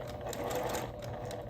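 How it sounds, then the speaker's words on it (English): A domestic sewing machine stitches quilt block fabric with a steady, continuous whirring hum, close and even throughout with no pauses. "I'm at my sewing machine, and let me show you what I mean."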